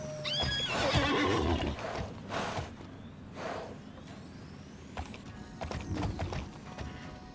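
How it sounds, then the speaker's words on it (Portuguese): A horse neighs and whinnies in the Alicia Online video game during a breeding session, with a clear whinny near the start followed by softer game sounds and faint clip-clop. "agora saiu um cavalo igual a Camille"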